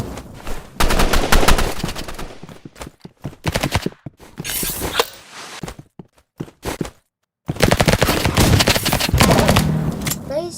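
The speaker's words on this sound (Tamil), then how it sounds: "ஸோ உசி வச்சு அடிக்கிறான்." Uzi submachine gun fire in the Roblox game Rivals: loud, dense automatic bursts at the start and end, with a sparse, choppier middle section of scattered shots and brief silences.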